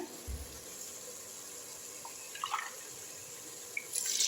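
Water pours into a pot in a steady, soft splashing stream, with a few light clinks and a brighter splash at the end.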